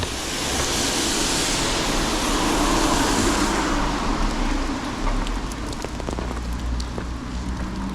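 Rain falls steadily in a small Japanese town, a dense close hiss of drops on surfaces that softens slightly after the first few seconds, with faint taps and no talk.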